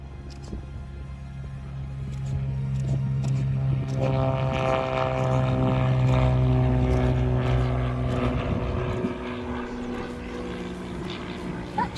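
Aircraft at Launceston Airport powering up its engines on the runway and taking off, a steady engine roar that swells and builds for several seconds, then holds loud with rising whine as the plane accelerates.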